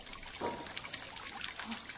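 Temple spring water running gently in a stream, a soft, faint continuous trickle with small splashes and no voices.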